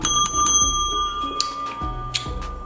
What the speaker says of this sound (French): c'est une sonnette de réception